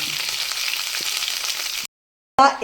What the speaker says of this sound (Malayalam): സവോളയിട്ട് ഉപ്പും ഇട്ടൊന്ന് വഴറ്റുക.